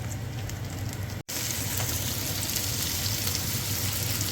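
Julienned ginger sizzles and fries steadily in a hot pan for a few seconds, a brief cut interrupting the continuous crackle, with no talking.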